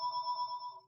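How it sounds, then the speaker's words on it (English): A mobile phone ringtone sounds in the background during an online class session, a faint steady electronic tone with clean harmonic layers that holds evenly, then fades. "That's my phone ringing in the background."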